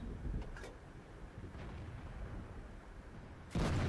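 A Tortoise tank destroyer's gun fires once in World of Tanks, a sudden loud, broad blast near the end after a few seconds of low rumbling ambience.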